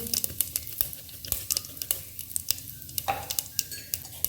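Crackling, popping spatter of mustard seeds spluttering in hot oil, dense irregular bursts close up over a steady sizzle, with no voices.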